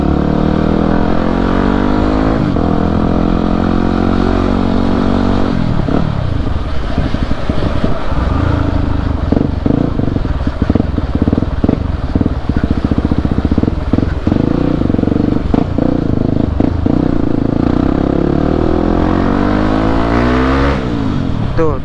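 A Yamaha WR 250 supermoto motorcycle's exhaust revs loud and close, with repeated throttle blips rising and falling in pitch over a steady running engine, then climbing again near the end.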